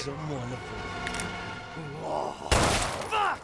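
A gunshot in the horror game Resident Evil 7 bursts out as one loud, sharp blast in the middle of the clip, after a stretch of speech and quieter game noise. More talking follows right after.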